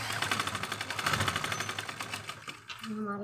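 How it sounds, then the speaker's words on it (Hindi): A sewing machine stitches an elastic waistband on a palazzo in a fast, even mechanical rattle, close and loud, slowing and stopping near the end as a voice speaks over it. "खींच के हम इसकी सिलाई लगाएंगे"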